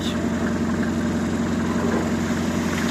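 A homemade tractor's engine idles steadily up close, a continuous low, even rumble with a strong throb that holds at the same loudness throughout with no talk.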